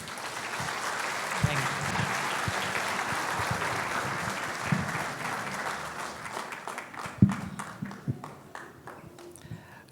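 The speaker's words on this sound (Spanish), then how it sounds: "le vamos a recibir con caluroso aplauso." Church congregation applauding warmly as a preacher is welcomed to give the morning teaching; dense clapping that thins out toward the end into scattered individual claps.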